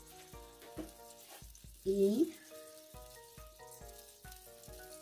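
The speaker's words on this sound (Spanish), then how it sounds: "Como está caliente ya el sartén, la margarina vamos a derretir más ya." Margarine melts in a hot frying pan with a soft, crackling sizzle running under a speaking voice and steady background music, fairly faint and close throughout.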